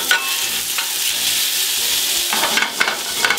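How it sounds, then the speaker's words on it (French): Burger patties fry in a pan with rendered bacon fat, giving a steady loud sizzle throughout with a few sharper crackles and spatters near the end, no voices. "Le gras, on le garde et la viande dans la poêle."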